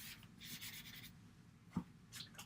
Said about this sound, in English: let me erase it a little bit here